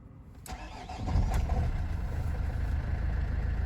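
A Renault Trafic 2.0 diesel van engine cranking and catching after injector repair, a short starter whir followed by the engine firing and settling into a loud, steady idle rumble close by.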